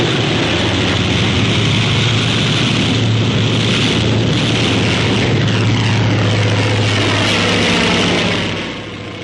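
Navy aircraft taking off with JATO rocket units, a loud sustained roar of propeller engines and rocket thrust that holds steady and fades slightly at the end, with no talk.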